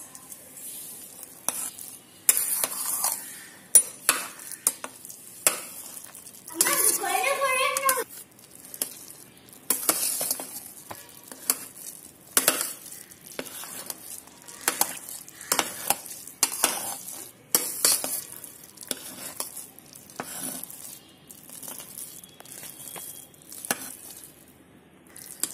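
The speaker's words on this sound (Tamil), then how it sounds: "இப்போ நல்லா கிண்டி விட்டுக்கலாம் நல்லா மசிச்சு விட்டுக்கலாம்" A spoon stirs and mashes soft cooked rice in a pot for sambar rice, making repeated scraping, squelching strokes at an uneven rhythm, close and fairly quiet, with no talking.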